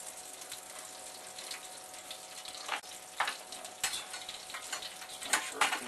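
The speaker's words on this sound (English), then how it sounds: "you can hear it starting to sizzle" Roast lamb sizzling inside a hot oven, a steady close crackle broken by several sharper pops and clatters.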